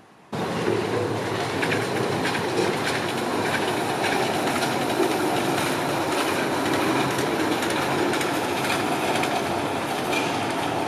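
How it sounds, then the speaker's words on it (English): A Moscow Monorail train departs Timiryazevskaya station with a steady, broad rumbling roar heard from a distance that starts abruptly and holds constant throughout, with no voices. "In a distance, a train departing Timiryazevskaya station can be seen."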